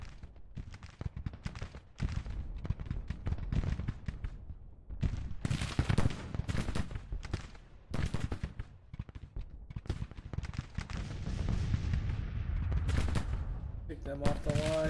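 Cannon artillery fire in a Civil War battle video game, Fredericksburg setting: dense, repeated booming blasts and rolling gunfire volleys continuing throughout, loud and layered, with a brief tonal sound near the end.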